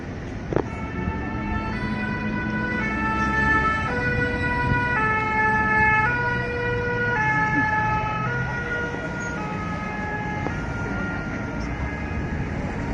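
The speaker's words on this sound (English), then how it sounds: "More ambulances arriving." Ambulance sirens wail in a two-tone hi-lo pattern as emergency vehicles arrive on a street in Nice, France, after a truck attack, steady and moderately loud over traffic rumble and distant murmuring voices.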